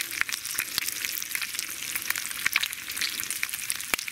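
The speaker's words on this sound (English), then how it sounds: "Can't beat bacon sizzling away." Bacon sizzling in a pan at a winter campsite, a steady bright crackle with frequent sharp pops and spatters, close and continuous.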